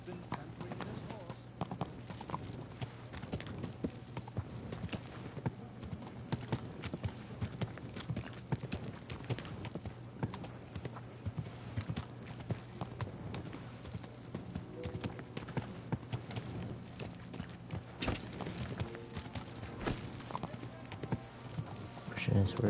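Steady clip-clop of horse hooves at an easy walking pace in Kingdom Come: Deliverance II, continuous and fairly close, over a dense layer of background ambience.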